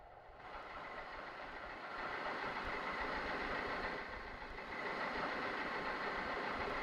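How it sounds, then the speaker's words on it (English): Engines of sub-chaser warships picked up on a submarine hydrophone in Silent Hunter 4 make a steady, dense mechanical rumble with a churning low throb that runs continuously and holds fairly constant in loudness. "I'm saying that that's probably the two sub-chasers."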